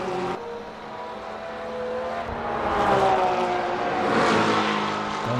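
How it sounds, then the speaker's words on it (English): A Porsche GT race car in a racing video game, on the Monza circuit, roars across the line, engine pitch sweeping upward through gear changes as it builds in loudness and passes close by. "That's he will come across the line, which I believe is Blake Gonzalez in the Bend Porsche."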